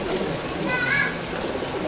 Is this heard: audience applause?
no